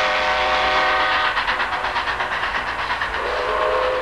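Train sound effect in a Telugu comedy skit: loud rolling wagons with a clickety-clack rhythm and a sustained whistle or horn tone, with no voices.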